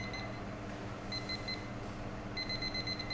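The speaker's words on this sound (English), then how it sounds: "I'm just going to put a timer on as well" Kitchen oven timer being set, giving a quick run of high electronic beeps, a pause, a few more beeps, then a longer rapid series, close and clear over faint kitchen room noise.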